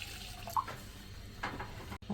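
Water is poured into a pan of caramel milk tea, a soft liquid splash and trickle with a couple of brief louder gurgles, moderately close and without speech.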